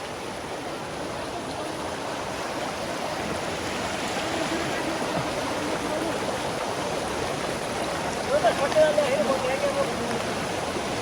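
A mountain stream rushes steadily over rocks during net fishing, a constant loud broadband wash of flowing water that fills the whole scene, with voices faintly under it.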